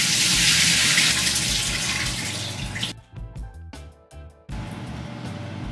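Water pours steadily from a kitchen tap as cooked rice is drained, a loud rushing gush that cuts off abruptly, leaving a few dripping, clattering moments before the flow resumes.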